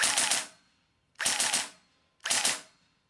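Evanix Air Speed regulated air rifle firing 3-shot bursts, three separate quick triple-crack bursts about a second apart, each with a short decaying tail, close up.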